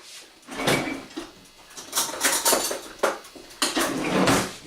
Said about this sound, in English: give the oatmeal a stir